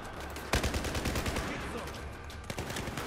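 Rapid automatic gunfire in the video game Battlefield 4, a dense run of bursts over about three seconds at moderate volume, with sharper single cracks near the start and end.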